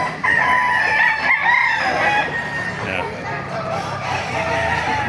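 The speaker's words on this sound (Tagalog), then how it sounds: "Napakarami manok dito sa Baliwag." Several roosters crow loudly over a busy, clucking flock of chickens at a chicken market in Baliuag, Bulacan, with overlapping calls and a steady din throughout.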